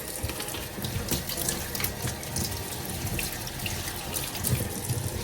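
A kitchen tap runs in a steady splashing stream while plastic Canadian dollar banknotes are rinsed under it, the water close and continuous with small splatter changes.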